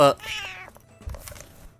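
A single drawn-out cat meow sounds up close after a brief voice burst, then fades into low rustling and quiet room noise.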